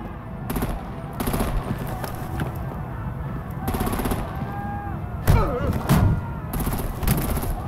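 Heavy gunfire and artillery blasts in a Batman: The Enemy Within action scene, with repeated loud volleys and booming impacts over a constant rumble, and voices shouting in between.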